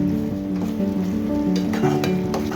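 Fresh coriander and mint get stirred into a potato and green pea pulao, giving a steady close scraping and mixing with a soft sizzle underneath and no talking.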